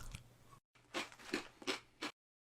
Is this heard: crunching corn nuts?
yes